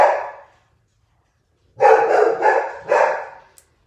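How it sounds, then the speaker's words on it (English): A dog barks indoors: one bark, then after a pause a quick run of three or four loud, close barks with no talk over them. "Mina, do you hear the dog growling at absolutely nothing?"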